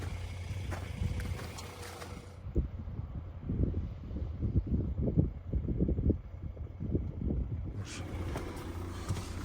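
A car drives along a road, with a steady low engine and road rumble running throughout and wind buffeting the microphone at the start and end.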